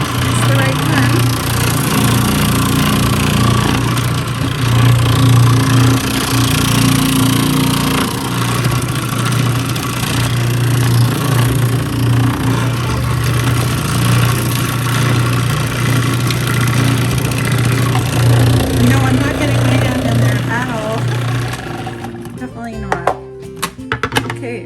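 A food processor whirs steadily as it slices celery for homemade chicken noodle soup, a loud, sustained motor drone that cuts off near the end with a few clattering knocks.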